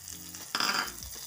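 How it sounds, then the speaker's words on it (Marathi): Peas, carrots and cabbage hit a pan of reddened garlic and sauté for a vegetable soup: a soft steady sizzle jumps into a louder, brief hiss as the vegetables go in, then settles back, close by. "आता हे मस्तपैकी थोडंसं 1-2 मिनटं परतून घ्यायचं आहे"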